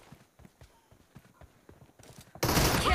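Gunfire in a PUBG sniper team-deathmatch: a run of quick, moderately faint shots and clicks in an uneven rhythm, then a sudden loud blast of dense firing in the final half second.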